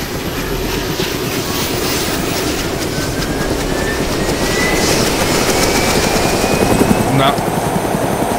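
A helicopter in the video game DayZ whirs steadily with a continuous rotor chop and engine drone, loud and close, with light talk underneath.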